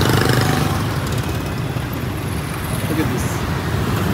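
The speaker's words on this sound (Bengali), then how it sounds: "so many motorcycle." Dense street traffic in Vietnam, thick with motorcycles, makes a continuous engine drone and road noise close by. Faint voices may sit underneath.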